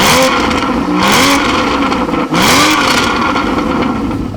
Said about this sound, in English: if you hear it racing around the racetrack, you can definitely say that the 6-cylinder is a great sounding engine